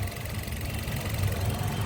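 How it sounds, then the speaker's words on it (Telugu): A 2022 Maruti Suzuki Swift VXi idles with a steady, low, even engine hum and light mechanical chatter, close and continuous, with no voices. "ఇంజన్ కూడా చాలా స్మూత్ ఉంది, ఎక్కడ కూడా ఆయిల్ లీకేజ్ కానీ ఎక్కడేం లేదు."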